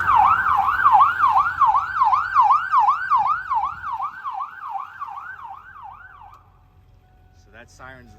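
A 2002 Ford E350 7.3L ambulance sounds its siren up close and loud, a fast rising-and-falling wail repeating for about six seconds before cutting off, then a couple of brief chirps.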